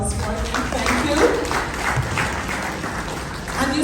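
Mourners and guests applaud at a celebration-of-life service for a police officer and justice of the peace, with muffled, continuous clapping mixed with voices.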